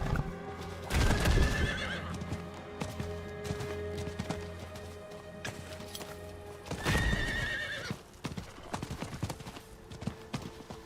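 A horse in Diablo IV clip-clops along at a steady gait, and two loud whinnies break in, one early and one midway. Game ambience with faint tonal music runs underneath.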